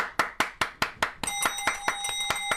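Five crisp, evenly spaced hand claps in a quiet room, then bright bell rings in a steady beat with the clapping carrying on at a softer level, close and clear, with no talking.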